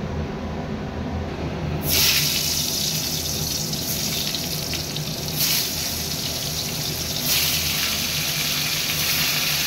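Water poured into a pan of pointed gourd to steam it, a steady broadband hiss and rush that swells loudly after a quiet start and holds without pause, with no voices.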